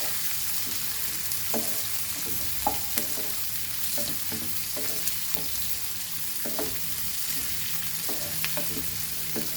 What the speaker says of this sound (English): And saute these to translucent color.